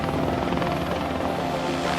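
Helicopter chasing a motorcyclist during a film shoot over open landscape, a loud, steady rotor roar with continuous thudding pulse, close and uninterrupted.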